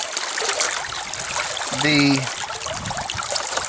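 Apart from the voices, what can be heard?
water flowing over the riffles of a gold sluice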